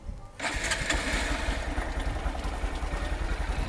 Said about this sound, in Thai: สตาร์ทติดง่ายนะครับ